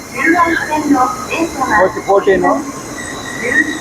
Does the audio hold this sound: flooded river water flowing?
no